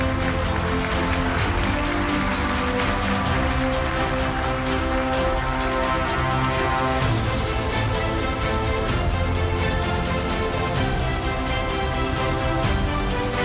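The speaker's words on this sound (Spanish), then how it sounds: "El aplauso para el maestro, por favor." Sustained audience applause at a journalism award ceremony honoring a maestro, a dense, steady roar of clapping that holds at the same loudness throughout with no voices on top.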